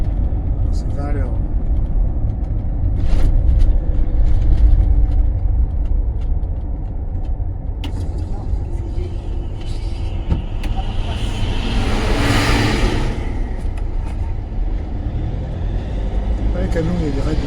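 A camper truck drives slowly, around 20 km/h, along a Moroccan road between Laâyoune and Tafraoute, its engine a steady, close, low drone with road noise throughout, and people talking over it.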